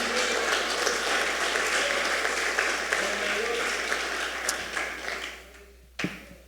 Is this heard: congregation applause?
yes